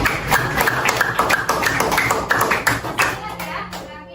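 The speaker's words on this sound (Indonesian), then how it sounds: "Tepuk tangan." A school class claps hands together, a dense patter of many hands heard close, with some voices mixed in, fading toward the end.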